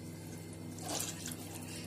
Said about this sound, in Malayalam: രണ്ടാം പാല് നമ്മൾ മൊത്തം ഒഴിക്കും കേട്ടോ.